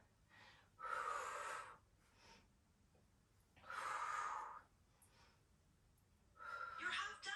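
Three deep, audible breaths come during a full-body stretching session, each a long airy exhale or inhale spaced a couple of seconds apart, close and clear against quiet.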